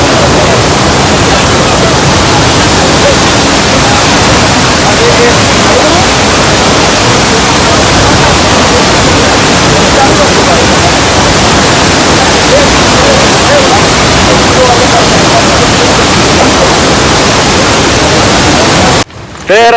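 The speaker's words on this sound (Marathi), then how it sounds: "वॉटरफॉल बघितलं ना आपल्या पाठीमागे" Monsoon waterfall at Devkund in Raigad, a loud, steady broadband roar of falling water that fills the whole stretch close by, ending in a brief dip with a faint sound at the very end.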